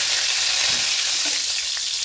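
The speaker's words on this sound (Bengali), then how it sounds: "এবার এই তেলের মধ্যে দেবো গোটা গরম মশলা, দারুচিনি, এলাচ, লবঙ্গ আর দুটো তেজপাতাকে এরকম ছিঁড়ে দিয়ে দিয়েছি।" Whole spices (cinnamon, cardamom, cloves and torn bay leaves) fry in hot oil with a bright, constant close-up sizzle and light crackling throughout.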